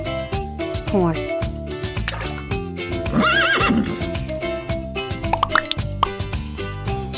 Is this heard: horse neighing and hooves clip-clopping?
yes